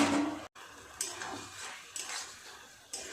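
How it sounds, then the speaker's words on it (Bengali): The lid is lifted off a pot of winter greens simmering on the stove, giving a few quiet, brief metallic clanks spaced about a second apart against a soft kitchen background. "এবার খুলে নেব ঢাকাটা।"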